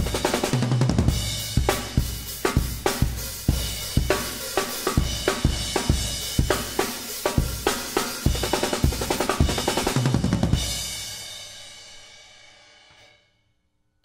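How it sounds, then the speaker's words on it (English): A full drum kit with kick, snare, toms, hi-hat and crash cymbal plays a loud, steady rhythmic beat for about ten seconds, then a final cymbal crash rings out and fades to silence. "When you put them all together, it sounds like this."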